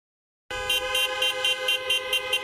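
Car horns honk at a raucous street protest by seniors in Laguna Woods, a run of loud, close, repeated toots pulsing in quick rhythm after a brief silence.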